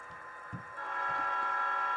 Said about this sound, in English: it goes through the whole grade crossing sequence just with one button